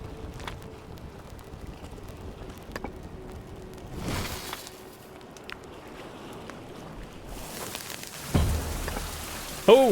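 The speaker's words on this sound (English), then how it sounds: "Oh, it is raining." Rain falls steadily in a 16th-century survival game, a soft, faint hiss of drops with a few sharper gusty bursts and splashes, no voices.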